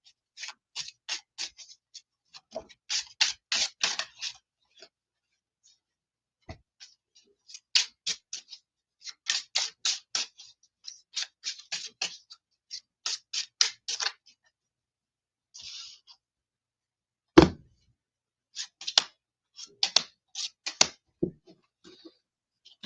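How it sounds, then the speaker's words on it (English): Bursts of crisp tarot card riffling and snapping come in short clusters separated by quiet pauses, close and fairly soft, with one sharper tap midway. "Just shuffling the cards"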